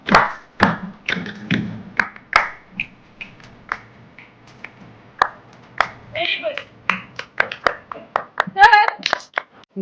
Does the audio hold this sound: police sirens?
no